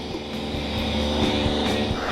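A power saw runs steadily through wood strips being cut to 1 3/4 inches for an end-grain countertop, a continuous loud whine with a low hum and small pulses, no voices.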